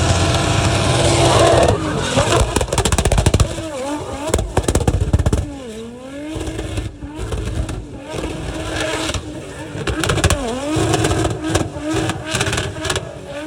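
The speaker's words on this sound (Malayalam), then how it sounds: "പല ടൈപ്പിലുള്ള വണ്ടികളുടെ ഷോയും സ്റ്റണ്ടും ഒക്കെ ഒന്ന് കാണേണ്ട കാഴ്ചകൾ തന്നെയാണ് കേട്ടോ" Cars and other vehicles perform stunts at the Liwa festival show, engines loud and close, revving and accelerating repeatedly with rising and falling whines, and voices sound over the engine noise.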